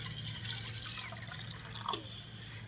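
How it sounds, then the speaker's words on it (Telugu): Finger millet (ragi) is swished and washed in a bowl of water, soft close sloshing and dripping over a low steady background hum, with no talking. "ఈ విధంగా శుభ్రంగా రాగులను కడుక్కోవాలి."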